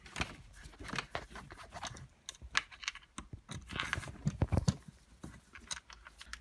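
Three screws come out of the side of a Vax Air vacuum brush head with quiet, close ticking clicks and scrapes of a screwdriver in an irregular patter, no voices.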